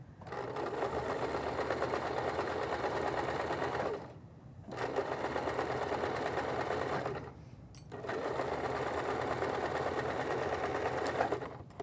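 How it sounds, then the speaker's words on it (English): A sewing machine stitches an apron forward and then in reverse, making three close, steady runs of rapid mechanical whirring separated by brief pauses. "You're going to forward stitch, and you're going to back stitch."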